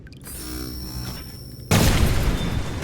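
A sniper cannon fired in the video game Dolls Nest: quiet mechanical sounds, then at about 1.7 seconds one loud, heavy boom that rolls on as a dense rumble to the end, with no voices.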